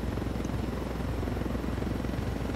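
Helicopter flying in a video game, a steady close rotor thrum with rapid rhythmic chopping that continues without a break.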